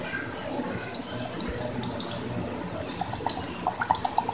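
A small amount of water is poured into a besan and yogurt mixture, making a soft, steady splashing trickle that stays fairly faint and continuous, with no talking.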